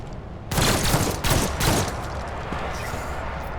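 Gunfire in the video game Warhammer 40k Rogue Trader: a loud, rapid volley of shots bursts in after a half-second lull, rattles for over a second, then trails into a lingering rumbling echo.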